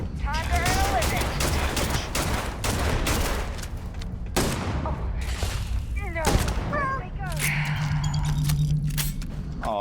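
Dense gunfire in the sci-fi game Starfield: bursts of weapon fire, booming shots and clattering effects run throughout, with a humming machine tone near the end and a voice talking over the action.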